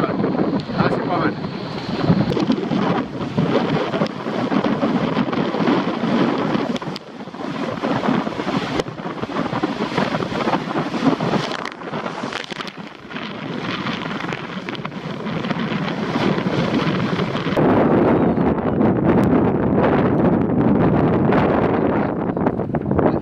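Strong wind roars across the microphone while a sailboat under way on open water rushes through the waves. The loud, steady buffeting continues throughout with only brief dips.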